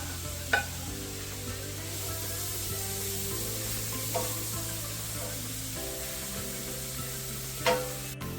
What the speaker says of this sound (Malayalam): ഞാൻ ഈ സവാള കട്ട് ചെയ്തതും പച്ചമുളകും എല്ലാം ഈ എണ്ണയിലേക്ക് ഇട്ട് കൊടുക്കുക. ഇത് ഒന്ന് വഴറ്റി ഒരു ലൈറ്റ് ബ്രൗൺ കളറാവണം